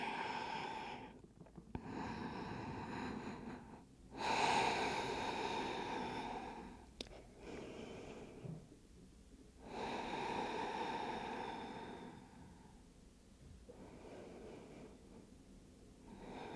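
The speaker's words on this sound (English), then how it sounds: "Really setting into your Ujjayi breath." Deep Ujjayi breathing during a yoga session for splits, with slow, long inhales and exhales that rise and fall in broad waves, close and soft, with no talk.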